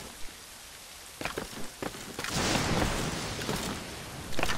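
Rain falling in the video game Assassin's Creed Rogue, starting with scattered drops and splashes, then swelling into a steady, loud downpour that holds with a final surge.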